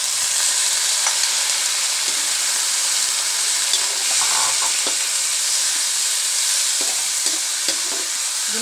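Salmon head sautéing in a hot pan, a steady dense sizzle running throughout with occasional soft clicks of a utensil against the pan.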